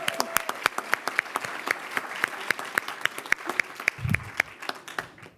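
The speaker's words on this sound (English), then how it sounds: "let's do another round of applause" An audience at a Teacher of the Year awards event gives a round of applause, a dense clapping that holds steady throughout with a few sharper individual claps standing out, heard from within the hall.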